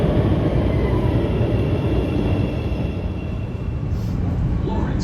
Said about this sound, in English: After a few minutes, our Red Line train arrives